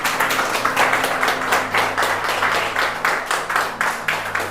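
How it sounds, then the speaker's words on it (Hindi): An audience clapping together at a spiritual talk on Shiva rituals, an even rhythmic stream of hand claps held at a steady moderate loudness, with a low hum underneath and no talking. "आप लोग सब ताली भी बजा सकते हैं।"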